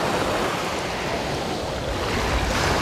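Sea waves wash onto a sandy beach in Belek, Turkey, a loud continuous broadband surf roar with steady wash and no voices.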